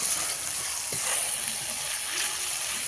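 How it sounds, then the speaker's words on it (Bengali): Mustard-based spice paste for mutton curry frying in a pan, a steady, bright sizzle that stays loud and constant throughout with no talk. "আমার এটা মশলাটা কষা হয়ে গেছে, এবার মাংসটা আমি দিয়ে দেবো।"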